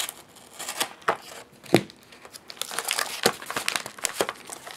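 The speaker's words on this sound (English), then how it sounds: "very comfortable to cut into things like this with a knife that's nice and sharp" A sharp, inexpensive knife slicing and tearing through cardboard and plastic packaging, with a few distinct cuts and crinkling rustles, close up, with no talking.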